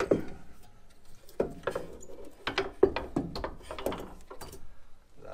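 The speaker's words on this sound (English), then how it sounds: "Loosen the 3 upper strut bolts." Upper strut bolts being loosened on a 2014 Silverado during a 2.5-inch leveling kit install, with bursts of ratchet clicking in uneven, close-up runs separated by short pauses.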